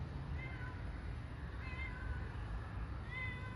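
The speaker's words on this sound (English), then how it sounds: "This is her cat." A house cat meows outdoors at night, three separate high, drawn-out calls spaced a second or so apart over a steady low background hum, fairly faint and somewhat distant.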